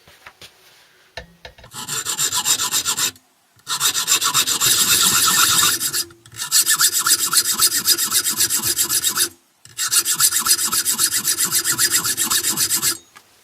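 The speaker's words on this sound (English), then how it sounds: "I'm just going to cut some lines in this with a hacksaw" A hacksaw cuts lines into the metal tang of a sickle being restored, with four bursts of rapid, rhythmic rasping strokes separated by short pauses, close and loud with no talk.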